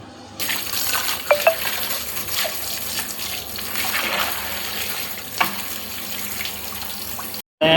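Goat meat for mandi is rinsed under running water, making a continuous splashing, trickling flow with a few sharper splashes and clunks, then a brief cut to silence at the end.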